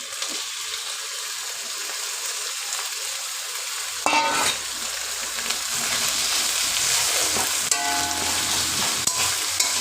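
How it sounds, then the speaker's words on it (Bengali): Garlic and green chili paste sizzling in oil with pointed gourd, stirred in the pan; a soft hiss swells louder midway as ingredients go in, with steady scraping strokes and no voices. "এইভাবে মশলাটা কষিয়ে নেব নেড়ে ছেড়ে।"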